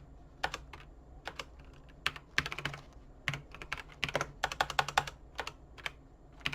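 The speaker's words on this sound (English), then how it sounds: "sorry about my typing" Quick, uneven keystrokes clatter on a computer keyboard, close up, in bursts with short pauses between them.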